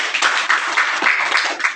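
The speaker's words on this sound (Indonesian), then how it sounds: "Berikan tepuk tangan buat Tuhan Yesus." A church congregation breaks into brief, close applause, a dense burst of clapping that fills under two seconds and fades at the end.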